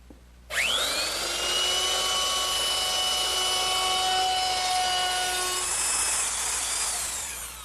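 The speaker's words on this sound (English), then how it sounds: "I've just rounded over the top edge of my armrest using my router and a 3/8" radius rounding over bit" A power router starts up sharply and runs at a steady high whine with strong harmonics for several seconds, then begins to wind down at the end.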